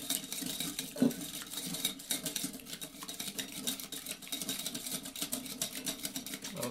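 Vinegar and oil salad dressing stirred in a bowl, a steady soft clink and swish of utensil against dish running throughout, with a sharper knock near the start.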